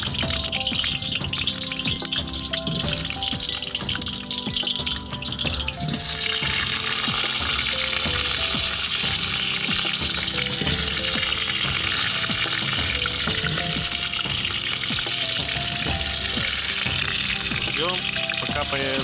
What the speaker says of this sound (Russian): Обжариваем картофель.